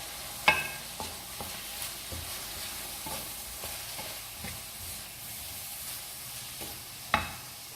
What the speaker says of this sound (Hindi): करेंगे इसको अच्छा सा मिक्स।